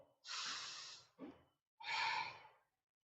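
Slow, deep breaths during a yoga relaxation pose: a long hissing exhale, a short breath, then another long exhale, close and quiet with no talking.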